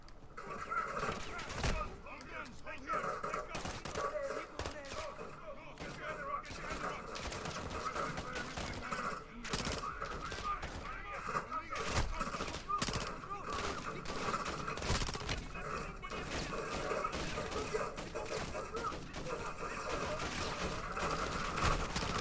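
Dense gunfire and explosions in a Call of Duty: Modern Warfare II campaign battle, with continuous bursts of shots and heavy combat noise packed throughout, loud and busy from start to finish with game sounds layered over one another.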